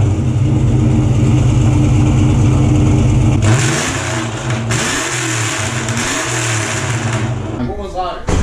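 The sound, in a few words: 2011-2014 Mustang 5.0 Coyote revving with straight-pipe exhaust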